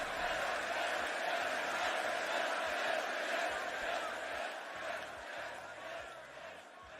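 Wrestling arena crowd reacting during a WWE SmackDown street fight event, a broad, sustained roar of many voices that fades slightly toward the end, with talk faintly beneath.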